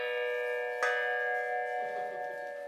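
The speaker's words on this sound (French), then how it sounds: "Comme ce gong, vestige de l'époque coloniale. Il vient de Namibie." A colonial-era metal gong from Namibia is struck once, giving a sharp attack followed by a long, shimmering, steady ring that slowly fades, with no voices.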